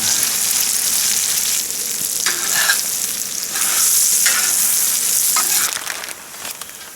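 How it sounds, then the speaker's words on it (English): Peppers stirred into a hot frying pan give a steady, close sizzle with scraping turns of the spoon, running loud and even for about six seconds before easing off near the end, with no talking. "Pepper in there. Mix those right in."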